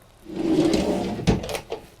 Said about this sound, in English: And here you have a drawer for cutlery,